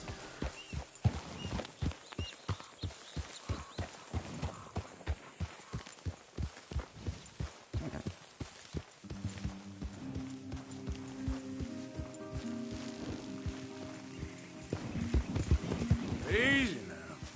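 Horse hooves clip-clop in a steady rhythm during a PS4 video game, fairly close and clear, with someone talking in places and a brief snort or whinny near the end.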